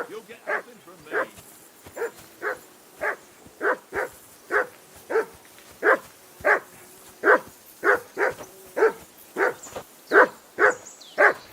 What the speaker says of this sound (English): Call off that mutt of yours!